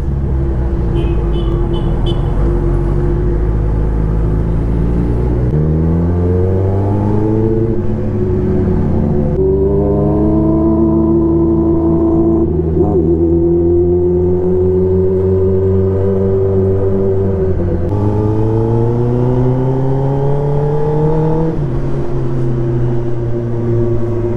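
A motor vehicle drives along a road, held at a steady, loud, close engine drone whose pitch rises and falls with speed changes, with no talk over it.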